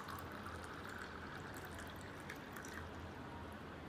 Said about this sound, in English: when we pour water in a bowl, it takes the shape of a bowl